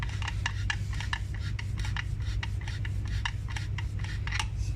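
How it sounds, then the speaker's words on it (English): Repeated short rasping strokes of a file worked against a 3D-printed InMoov robot knee part, steady and close, over a constant low hum, no talking. "Just moving it a little bit with a file."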